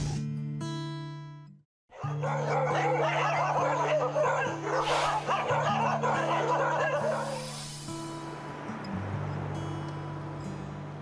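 A street dog on a Manila sidewalk barks in quick repeated bursts, fairly close, over steady background music with some laughter-like sounds.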